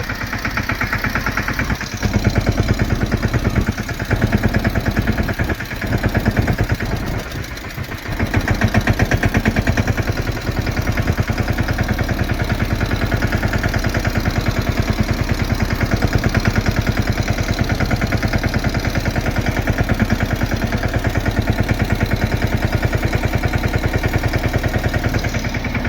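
A tractor engine idles loud and close in a steady, unbroken rumble with a vibrating throb, dipping briefly a few times early on before holding even; no voices.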